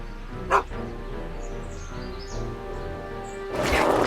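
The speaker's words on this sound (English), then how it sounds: "Get away from me, you crazy mutt! Go away, dog." A dog gives one short bark early on in a Back to the Future adventure game scene, then only background game sounds continue, with a louder noisy burst near the end.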